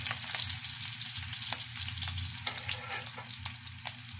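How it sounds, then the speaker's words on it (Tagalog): Onions sautéing in a pan for mussel adobo with green chili, a steady close sizzle and crackle with a few sharp spatula scrapes and clicks, no voices. "papula-pulahin muna natin yung sibuyas na masunod-sunod para mabango"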